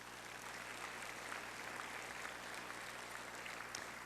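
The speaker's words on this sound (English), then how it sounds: "let's give our universities a round of applause" A conference audience applauds universities at a leadership event. The clapping is faint and distant, a steady wash of many hands that lasts several seconds with no voices over it.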